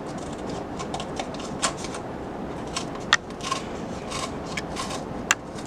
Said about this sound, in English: cut straight up the seam.